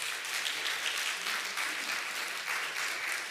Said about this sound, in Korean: 우리 한번 박수로 한번 맞이하면 좋겠어요.